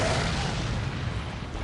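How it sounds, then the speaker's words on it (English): A single grenade blast in Resident Evil 4, a deep booming explosion that starts loud and rumbles away over a second or two, with no talking. "How am I going to get out of this? Grenade."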